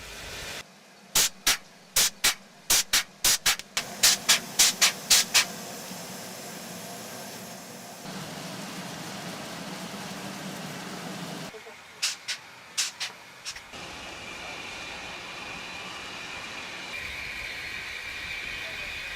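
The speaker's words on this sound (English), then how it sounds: "We arrived just in time to see our train entering the yard" A steam locomotive pulls its train into a mountain railway yard, with a run of sharp metallic clanks early on, another cluster later, and a broad steady hiss underneath throughout.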